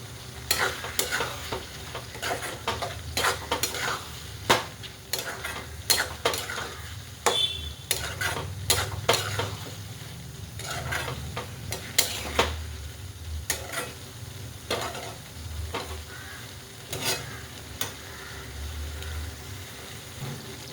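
Eggplant (brinjal) curry cooking in a pan, topped with green coriander, with steady stirring scrapes and clinks against the pan over a soft sizzle, close and fairly loud, no talking.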